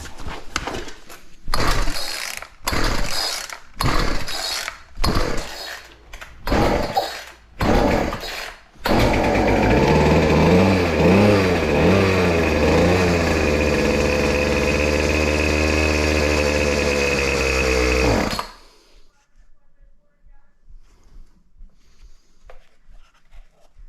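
Hard-starting weedeater, about eight repeated rough cord pulls, then the small engine catches and idles with a steady buzzing drone before cutting out abruptly into near silence.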